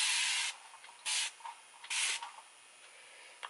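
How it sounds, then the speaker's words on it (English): Three short bursts of makeup setting spray hiss in quick succession, each about half a second long, close and crisp, with quiet pauses between. "This is my setting spray"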